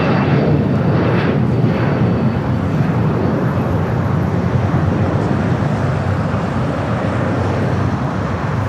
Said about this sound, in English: we did have an air shot at 777 touching down on the north side